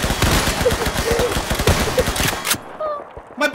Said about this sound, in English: My bullets are going right through his ribcage!